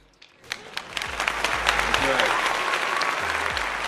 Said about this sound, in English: let's get a round of applause for Karina.